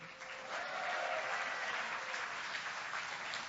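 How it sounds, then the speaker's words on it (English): Steady applause from a sizable Hearthstone event audience, sustained throughout at moderate distance with no voices over it. "why don't we give one more big round of applause to Eric Dodds and the Hearthstone team"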